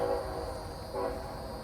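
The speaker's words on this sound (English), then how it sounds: "I hear a train." A train passing near a rural Georgia cemetery, its horn sounding in two faint drawn-out blasts at a distance over low rumbling background.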